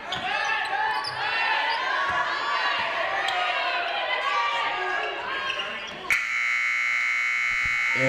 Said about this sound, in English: the buzzer falls off